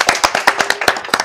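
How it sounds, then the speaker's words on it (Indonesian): Hands clap in a quick, even rhythm of about ten sharp, close claps in just over a second, with no other sound. "tepuk tangan dulu teman-teman"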